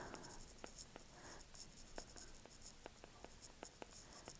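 Pen or pencil scratching across paper while math notes are written out, quiet close strokes and taps in an irregular rhythm over faint background hiss.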